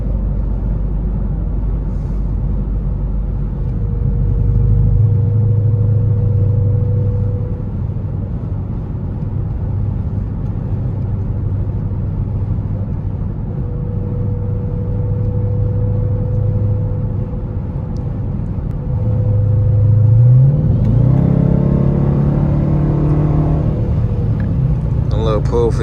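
Dodge Charger RT exhaust with rear resonators cruising in highway traffic at night: a steady low, loud rumble that swells briefly and rises into a revving surge near the end.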